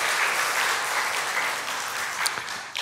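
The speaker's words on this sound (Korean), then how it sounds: "우리 박수로 한번 하나님께 큰 영광 올려드리겠습니다." Congregation in a church breaks into dense, sustained applause, a wash of many hands clapping at once, fairly distant and even, fading slightly toward the end.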